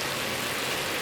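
A pot of water boiling for cooking vegetable side dishes, giving a steady, close bubbling hiss with no break.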